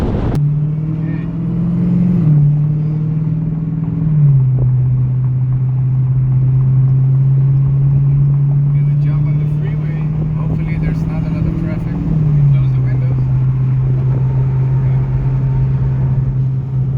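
Dodge Challenger Hellcat on drag radials cruising on a freeway, a steady close low engine drone from inside the car with pitch shifts as it changes gear, continuous throughout.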